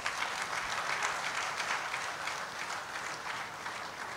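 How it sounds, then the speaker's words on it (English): Audience at a memorial service of songs gives a steady round of applause, dense continuous clapping at an even level throughout, with no voices on top. "I think Capitano deserves a better round of applause"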